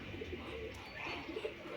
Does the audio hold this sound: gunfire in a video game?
no